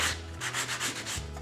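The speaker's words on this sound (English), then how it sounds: "I might want to take my sanding block" A sanding block rubs back and forth across wood on a model house, giving about six steady, close, rhythmic scraping strokes with no talking.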